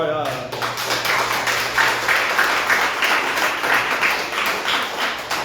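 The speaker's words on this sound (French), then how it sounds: "applaudissement" Congregation applause fills a church service, a steady dense patter of many hands sustained throughout, with a voice briefly audible at the start.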